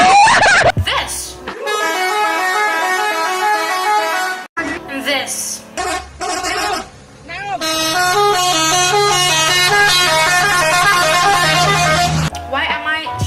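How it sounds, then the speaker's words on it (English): An Indonesian telolet bus horn plays a loud, musical sequence of repeated bright tooting tones in two long bursts, with a short spoken interjection between them. "TELOLET is the sound that the bus horn makes."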